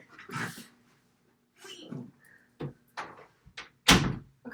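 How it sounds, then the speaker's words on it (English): Dogs playing indoors in a room, scattered thumps, scuffles and bumps in short irregular bursts with quiet gaps between, close by. "My dogs, of course, decided to play at the worst time"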